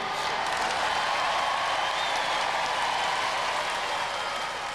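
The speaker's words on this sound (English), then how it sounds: "Let's have a nice round of applause for both these teams." A studio audience at a robot combat show gives a round of applause, a steady wash of many hands clapping heard at a moderate distance.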